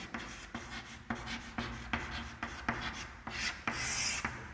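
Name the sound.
writing tally marks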